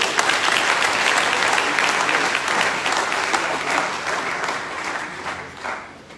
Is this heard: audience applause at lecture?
yes